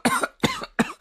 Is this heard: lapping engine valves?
no